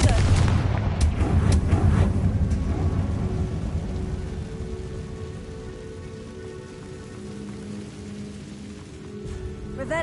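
Explosive spell blasts from Hogwarts Legacy boom loudly at the start, then fade into a lingering rumble and quiet game ambience that swells slightly near the end.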